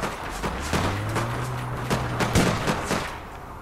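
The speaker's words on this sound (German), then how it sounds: "Ich treffe die ersten vier Schuss ohne Problem und dann geht jeder daneben." Rapid gunfire in the online shooter APB, a burst of several quick shots in close succession with a sustained low tone beneath, loud and up close.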